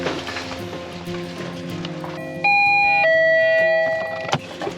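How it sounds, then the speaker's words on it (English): A two-tone electronic chime from a cheap doorbell intercom rings out over a steady background hum, the first tone stepping down to a second sustained note before fading. "It is in fact just a cheap doorbell intercom from Amazon."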